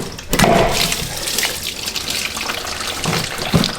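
Fluid draining from a hose on a Duramax truck's rear end into a catch pan, a steady splashing pour of liquid heard close by that continues throughout with a couple of sharper spatters.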